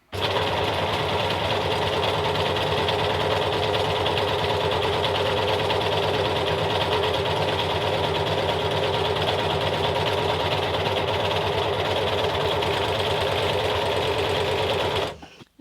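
An overlocker stitching fabric with its differential feed turned down to 0.5 runs steadily and loudly for about fifteen seconds, a continuous rapid mechanical whir and clatter with no talk, stopping abruptly at the end.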